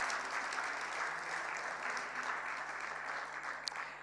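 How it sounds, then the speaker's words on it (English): Audience applause at a budget review dinner, a dense, steady clapping from a large seated crowd that holds evenly for the whole stretch with no talk over it. "Let's please give Madame Letitia another round of applause"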